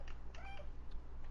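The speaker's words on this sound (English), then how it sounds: "That's my mama cat." A mother cat gives one faint, short meow with a rising and falling pitch, heard softly against a low background hum and without any talk.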